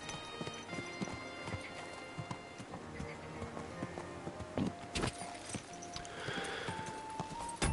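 Horse hooves clip-clopping steadily at a walking pace while riding in Kingdom Come Deliverance 2, moderately close, with a brief whinny and some ambient game sounds mixed in.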